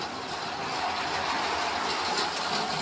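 LEGO toy train running along its track, a continuous faint whirring and rattling that holds steady throughout, with no talk.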